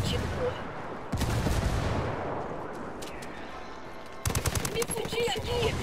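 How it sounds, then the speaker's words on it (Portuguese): Rapid bursts of automatic gunfire in the video game Ghost Recon Wildlands, loud and close, with a dense volley early and another clattering burst near the end, mixed with game ambience and voices talking. "Me fudi aqui, estão atirando!"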